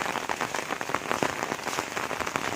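Rain on the first cold rainy day at Nong Pla patters densely and steadily on a surface nearby, with no voices.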